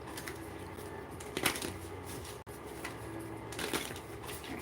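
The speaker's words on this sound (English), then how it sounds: "All right, one more shuffle." Tarot cards being shuffled by hand at close range, with soft riffling and flicking bursts that come and go quietly, no talking over them.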